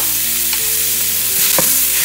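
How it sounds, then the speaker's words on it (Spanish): Ground beef sizzling and frying in a hot pot, a steady loud hiss with a few sharp scrape-like bursts from stirring. "en una olla caliente vamos a poner nuestra carne molida"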